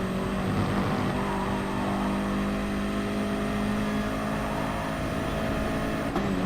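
Race car engine held at full throttle, heard onboard in the Gran Turismo racing game: a steady, loud, droning tone with harmonics that barely waver for the whole stretch, no one talking.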